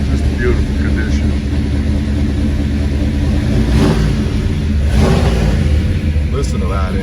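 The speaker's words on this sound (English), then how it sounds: "Listen to that engine. That is amazing." A loud 1965 Chevrolet Impala SS 409 engine rumbles steadily close by, swelling in a couple of revs, with voices faintly audible over it.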